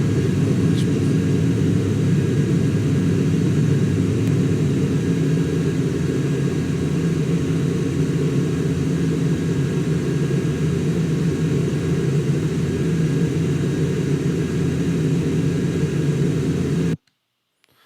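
A simulated airplane takes off in Microsoft Flight Simulator, a steady, loud engine roar and rumble holding for about seventeen seconds before it cuts off abruptly.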